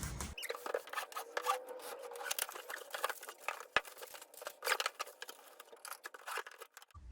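Office chair parts for a Hood Seating i29 chair being unpacked from plastic wrap: close, crinkly rustling and scratchy tearing in irregular bursts, with a few sharp crackles, no voices.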